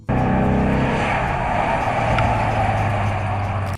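A 1961 Chrysler 300G engine roars loud and close in a sustained, steady drone, cutting off abruptly at the end.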